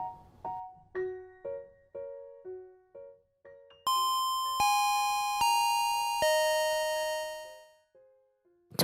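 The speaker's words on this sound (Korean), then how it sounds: "종소리가 울리고" A bell rings for the start of class at school, sounding as a series of clear chime notes, first short spaced tones, then louder sustained ringing strikes that fade away, alone without voices.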